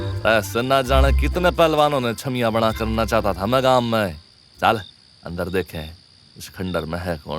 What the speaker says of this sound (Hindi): पास के खेतों से झींगुर की आवाज आ रही थी